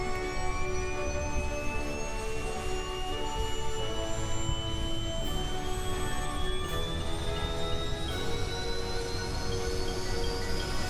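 A jet aircraft engine roars in Kerbal Space Program during takeoff, a loud continuous whine with rising turbine tones over a dense low rumble, steady and close throughout.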